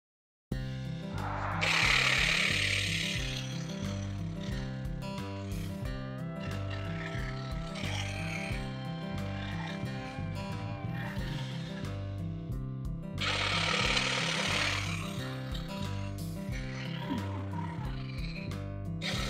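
A cordless electric grass shear trims grass outdoors, giving a continuous buzzing motor whir with a rattling cutting texture and two louder swells of snipping as the blades bite into the grass, close and without talking.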